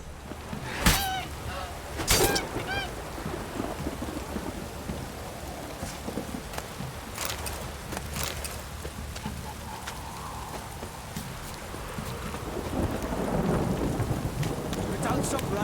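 Heavy downpour in the video game The Witcher 3, with sharp thunder cracks early on over a constant hiss of rain that swells louder toward the end, and a faint clatter of hooves beneath.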